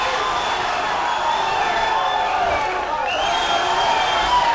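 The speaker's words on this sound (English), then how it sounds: "We can hear the crowd cheering for Abdul here" Steady roar of a live MMA fight crowd cheering for Abdul through the whole stretch, broad and sustained with shifting whistles and shouts rising above the wash, loud and continuous without pause.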